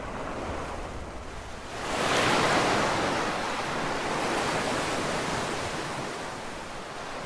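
Ocean surf rolls onto a beach in Death Stranding, a steady wash of breaking waves that swells louder partway through, with wind noise and no talking.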